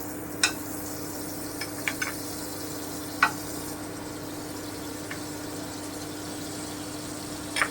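Bread toast fries in butter in a pan, giving a soft, steady sizzling hiss throughout with a few sharp clicks and light taps from the pan, no voices.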